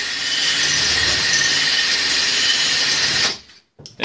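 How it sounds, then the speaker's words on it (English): A coarse file shaping a wooden fiddle soundpost spinning on a mini lathe, giving a loud, steady close-up hiss and whir that runs continuously, then stops abruptly near the end with a brief faint sound after. "Take your coarsest file, make sure you're going the right direction, and just start working the wood."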